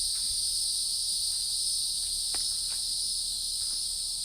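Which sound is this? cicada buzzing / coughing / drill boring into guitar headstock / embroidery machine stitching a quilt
cicada buzzing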